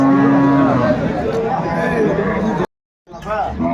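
Dairy cows and calves of improved breed low loudly and close by at the Aftabganj cattle market in Dinajpur, a long drawn-out moo followed after a short break by another rising call, with faint market murmur around.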